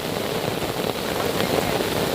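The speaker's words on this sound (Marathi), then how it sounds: "इतका पाऊस आता लागूनच राहिला ना" A dense, even patter of rain falls continuously near the Indrayani river, close and fairly loud, with no voices.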